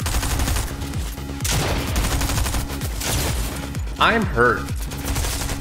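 Constant gunfire in a Fortnite match, rapid overlapping shots rattling all around in dense bursts, with a player's voice talking over the shooting.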